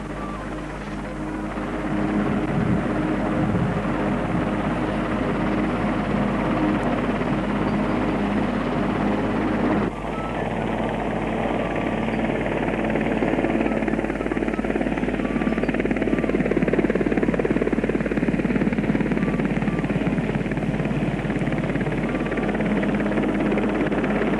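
An RAF helicopter hovers and flies while delivering a church spire to Ashridge House, with a constant loud rotor drone and engine roar that holds steady throughout.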